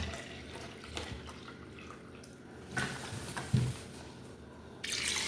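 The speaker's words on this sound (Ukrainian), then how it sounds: "І наливаю водичку." Water poured from a container into a pot while preparing aspic (kholodets) from a home-raised broiler chicken, a soft, quiet trickle and splash with a few brief louder sloshes near the end.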